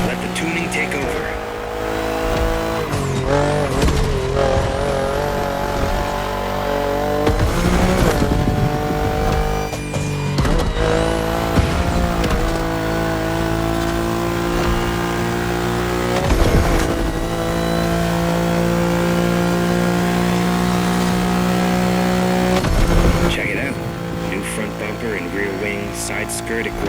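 A tuned BMW in The Crew Motorfest revs and accelerates, its engine note rising and falling through gear changes with occasional whooshes and tire noise, under steady in-game music and a voice speaking.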